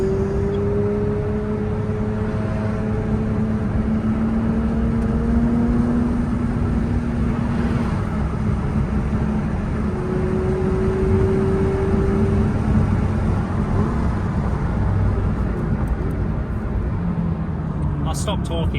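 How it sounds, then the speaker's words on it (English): A steady Porsche 911 ST engine drones close by, with a low rumbling hum and shifting tones as it runs continuously. "I'll stop talking when the sound of the car is there."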